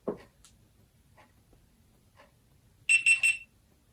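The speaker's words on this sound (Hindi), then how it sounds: "3 बीप एंड इट्स ऑन" A GoPro HERO 9 Black camera gives three quick, bright electronic beeps in a row as it powers on, following a faint click and some soft handling noise.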